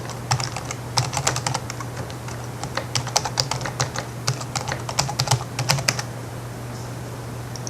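Fingers type a username and password on a computer keyboard, quick irregular clicks of keystrokes close up over a low steady electrical hum, with no talking.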